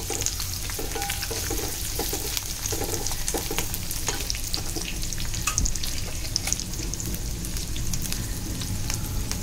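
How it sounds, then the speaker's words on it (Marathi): Onion and garlic being sautéed in oil for a Malvani-style moong and matki usal give a loud, continuous sizzle with frequent stirring scrapes throughout, and no speech. "कांदा लसूण लाल होईपर्यंत आपल्याला परतून द्यायचं."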